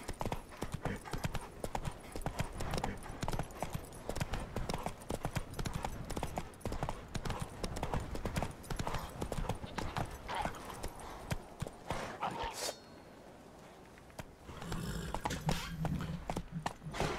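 Horse hooves gallop in The Witcher 3 in a fast, steady clip-clop that runs loud and unbroken for most of the stretch, then falls away near the end.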